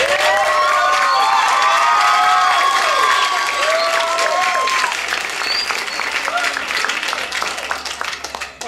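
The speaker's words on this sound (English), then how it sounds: "they really deserve a lot of applause and good stuff" Audience applauding and cheering after a school production of Seussical, sustained loud clapping with excited shouts and whoops from children, fading slightly toward the end.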